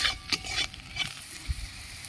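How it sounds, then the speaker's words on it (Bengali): Bitter gourd frying in oil, with crackling sizzle broken by several sharp stirring scrapes and clinks of a spatula against the pan, close and moderately quiet. "উচ্ছেগুলো ভাজা হয়ে গেছে আমি এখন তুলে নিচ্ছি"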